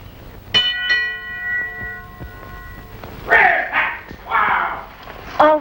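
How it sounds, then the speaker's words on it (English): A friar strikes a bell twice, each stroke leaving a long ringing tone that fades over a couple of seconds, before louder voices start speaking. "Come on, Friar, ring the bell."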